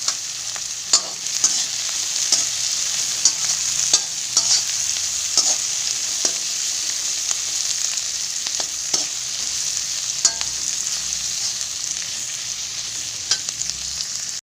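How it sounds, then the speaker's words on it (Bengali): Onions sliced for beresta frying in hot oil for egg biryani, a continuous bright sizzle with frequent scraping stir strokes, close and steady with no talk. "বেরেস্তা ভাজার সময় এর ভেতরে আমরা সামান্য একটু নুন দিয়ে দেব"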